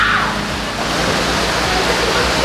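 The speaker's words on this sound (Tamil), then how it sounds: "மோட்டர் சவுண்ட் வந்து ரொம்ப இறைச்சலாக இருக்குது." A constant loud wash of splashing water and motor drone at a tilapia fish farm in Malkiya, Bahrain, close and unbroken throughout.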